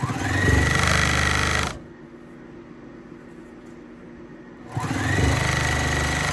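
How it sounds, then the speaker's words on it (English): A domestic sewing machine runs in loud, steady mechanical bursts while back-stitching over earlier seams on a beginner's first quilt. It stops for a quiet pause of about three seconds, then starts again. "And just sew over what you've already did. Back stitch it."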